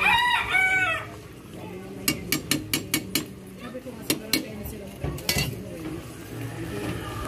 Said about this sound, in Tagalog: May background pa ng manok